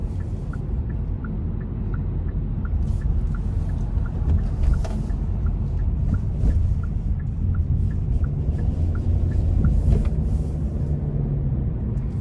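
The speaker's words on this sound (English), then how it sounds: "We're gonna try and give it some throttle here getting on the interstate" A 2024 Hyundai Venue with a 1.6-litre four-cylinder engine accelerates up an interstate on-ramp, giving a steady, loud low drone of engine and road noise with faint periodic ticks throughout.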